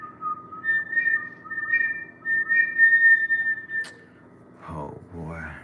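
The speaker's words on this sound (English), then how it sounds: "y'all wanna hear my whistle?" A person whistles a sustained, wavering tune that runs steadily for several seconds, followed by a short burst of other sound at the end.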